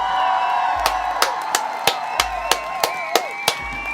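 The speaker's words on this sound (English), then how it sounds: "we want to give the Ujamaa babies a round of applause." A group at a Kwanzaa Ujamaa week toast ritual gives a round of applause. Sharp, evenly spaced claps ring out over a faint murmur of voices, with a few whoops.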